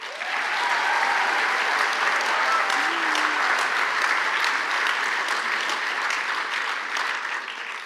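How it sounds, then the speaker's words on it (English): Audience applause following a youth gospel choir performance at a staged event: steady, dense clapping across the whole stretch, loud and sustained with no pauses. "Let's give them a warm round of applause."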